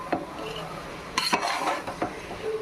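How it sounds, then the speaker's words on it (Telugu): A spoon scraping and clinking against a pot while hot rice is stirred and mixed for mint pudina rice, a few distinct metallic scrapes over a quiet background. "బాగా కలుపుకోవాలండి"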